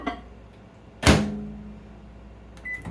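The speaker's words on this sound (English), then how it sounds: "In the microwave it goes. 1 minute." Microwave oven being set for one minute: a soft click, then a loud thunk of the door or start followed by a steady low hum, ending in a couple of short beeps.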